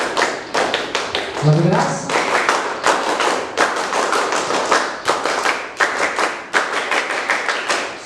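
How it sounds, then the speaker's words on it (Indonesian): Scout troop's Pramuka rhythmic clapping in three rounds at a school scouting gathering: sharp, loud group claps in a patterned beat, repeated in bursts, with a voice calling out briefly over the start. "Untuk mempererat suasana, 3 kali tepuk pramuka."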